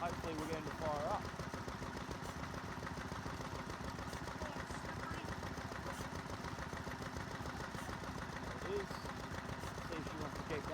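A 100-year-old engine at a family collection open day, turning over and beginning to run, giving a steady low mechanical chugging throughout with faint background noise and no clear talk.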